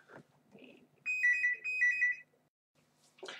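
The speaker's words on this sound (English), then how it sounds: "It's my phone." A mobile phone ringtone plays loudly for about a second and a half as a bright, sustained electronic melody, cutting in abruptly after a quiet stretch and stopping just as suddenly.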